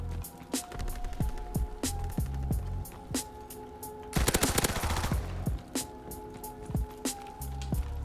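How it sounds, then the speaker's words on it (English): Rapid bursts of ORSO SMG fire in Call of Duty WW2, a dense stuttering volley that peaks loudly mid-clip amid separate sharp shots and game effects, with no talk. "when you get rapid fire on the ORSO, bro, it's a wrap"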